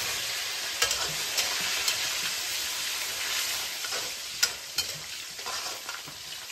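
Ginger and garlic stir-frying with thin-sliced cured pork in rendered oil, a steady close sizzle and hiss with scattered pops and occasional spatula scrapes, no voices.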